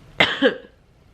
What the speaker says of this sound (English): ignore the cough.